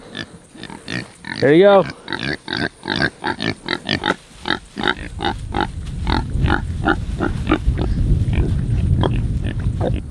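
Pigs in the woods grunt and snort in quick repeated bursts close by, with one squealing cry early on, while a person talks over them and rustling noise fills the background.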